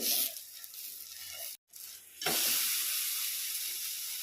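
Moong dal dosa sizzling in oil or ghee on a hot pan, a steady bright hiss broken by a brief silent gap, then returning louder and continuing close up without any talk.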